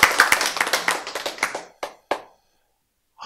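At a lecture, a small audience claps in a quick, close burst of sharp hand claps that tapers to a few isolated claps, then silence, and one more clap at the end.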